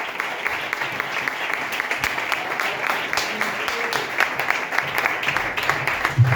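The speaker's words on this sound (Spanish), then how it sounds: "Dar un fuerte aplauso al Señor." A church congregation applauds during a sermon, a sustained wash of many hands clapping at a steady moderate level for several seconds.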